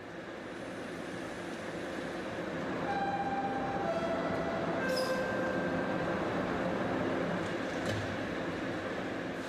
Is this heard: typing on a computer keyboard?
no